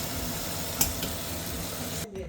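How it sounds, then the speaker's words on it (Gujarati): Chicken with onion, tomato, chilli and masala frying in a pan, a steady close sizzle broken by a couple of brief stirring clinks, then a sudden drop near the end. "તો મસાલો હવે શેકાવા આવી ગયો છે"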